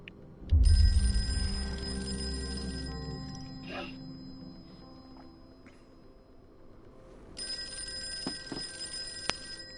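A telephone rings with a sharp electronic bell tone in two separated bursts, the second ring clear and steady, over a faint background.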